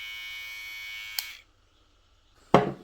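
A Kemei 127 electric hair clipper runs with a steady close buzz that cuts off after about a second, followed by silence, then starts again with a sharp loud burst of motor whine.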